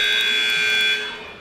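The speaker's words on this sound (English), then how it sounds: "I'll turn down that buzzer." A loud, steady electronic buzzer drones at a high-school wrestling match between Guthrie and Choctaw, holding one sustained tone before dropping slightly in level near the end, with no talk over it.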